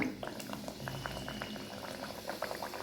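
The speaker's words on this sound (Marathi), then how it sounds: "आता आपण एक एक खारी सोडून देऊया तळायला" Khari pastries dropped into hot oil in a kadhai fry with a steady bubbling seethe and scattered small pops and crackles, close up and fairly soft, with no talking.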